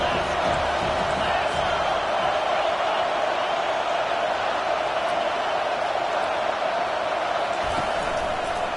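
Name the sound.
football stadium crowd cheering on third down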